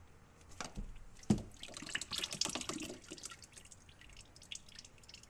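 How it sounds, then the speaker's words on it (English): Engine oil from a Mazda3 dripping steadily into a drain pan, with scattered drips and small splashes, close up, alongside light clinks and handling noise. "So now you got 2 holes dripping off into this pan."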